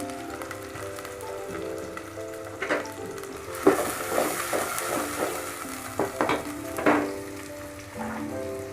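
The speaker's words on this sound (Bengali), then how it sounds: "তো আমি পেঁয়াজটা ভালো করে ভেজে নিব।" Onions fry in oil in a pan for a Bangladeshi mutton liver dish, a steady sizzle with a few louder bursts as they are stirred, close and without speech.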